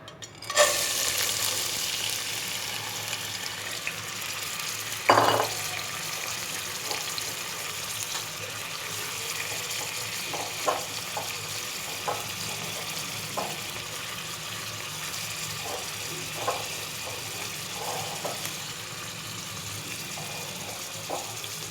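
Chana dal fries in oil in a pan, a steady close crackle and hiss heard alone for over twenty seconds, with a louder burst near the start and scattered light ticks of a spoon stirring the lentils.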